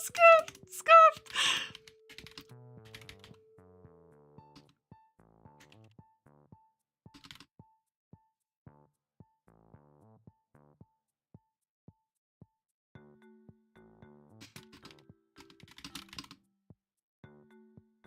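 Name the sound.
typing a message on a computer keyboard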